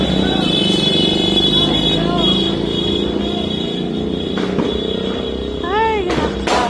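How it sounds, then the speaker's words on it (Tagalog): Loud, steady engine noise from passing road traffic, with motorbike rumble and occasional horn-like tones throughout; a crowd murmurs faintly underneath. "Maingay pa rin ang mga motor."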